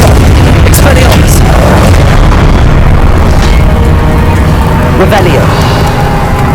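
Spell blasts from Confringo and Expelliarmus boom and burst repeatedly in Hogwarts Legacy during a keeper trial, loud explosive hits layered over a steady rumbling game soundscape.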